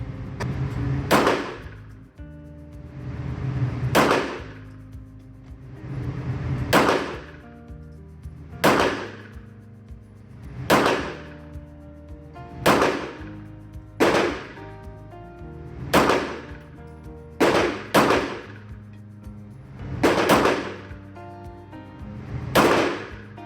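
Walther PPQ Q4 pistol firing shots outdoors, about eleven sharp loud reports spaced roughly two seconds apart, each followed by a brief ringing decay, no talk.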